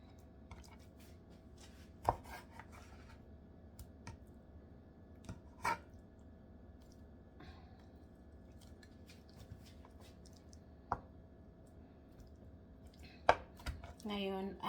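A knife chops through a thick, washed fish on a cutting board at home, landing a handful of sharp, separate thuds with quiet gaps between, while a voice talks softly nearby.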